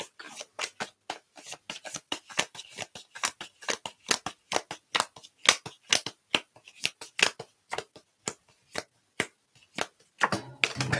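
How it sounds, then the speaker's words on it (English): A tarot card deck being shuffled by hand in a steady run of quick, crisp riffles and slaps, close and fairly loud, with no talk over it. "I'm going to shuffle these until one jumps out of the deck."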